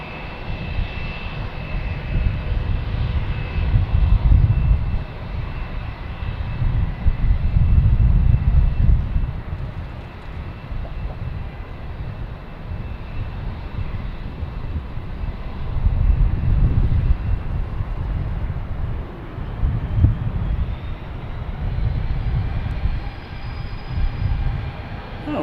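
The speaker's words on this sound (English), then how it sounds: "All right, so we have Porter coming in first, and the one to the right there is the MD-11." Airliners, including an MD-11, land at Boston Logan Airport, heavy jet engine roar swelling and fading in repeated waves over steady wind and rumble, loud and fairly near, with no voices.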